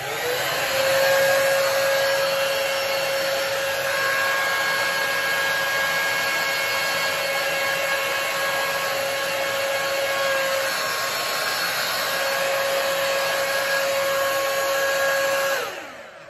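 A Dyson-dupe hair dryer blows steadily with a constant whooshing whine for a long stretch, then switches off at the end.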